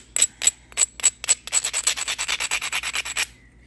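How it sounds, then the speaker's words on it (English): A flint edge being worked by pressure flaking, heard as a close, rapid series of about twenty sharp scraping strokes, spaced at first and then quicker, with nothing else over them. "let's see if I can find an edge I can get a couple flakes off of here"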